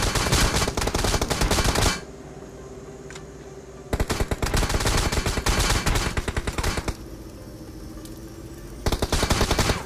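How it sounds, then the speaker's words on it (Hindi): Gunfire in the mobile battle royale game BGMI, with loud rapid automatic bursts of shots in long volleys broken by short quieter pauses, no talking. "भाई यहाँ पे एक बंदा मेरे पे फायर करता है"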